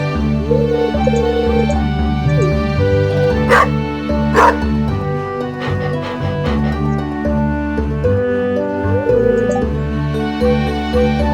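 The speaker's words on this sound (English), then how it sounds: "We get our first dog." A dog in the Stardew Valley farming game yips twice in quick succession over steady, bright background game music, with no talking.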